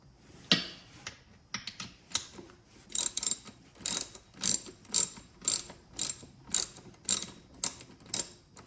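A ratchet wrench loosening 13 mm nuts on a 1999 KX125 motocross engine during a head gasket job: a few scattered clicks, then a steady rhythmic run of close, crisp ratcheting bursts.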